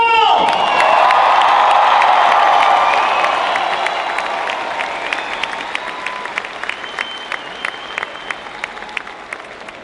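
A large crowd at the Cheney High School Class of 2018 graduation ceremony bursts into loud, sustained applause and cheering, with whoops over dense clapping that gradually thins and fades across the stretch.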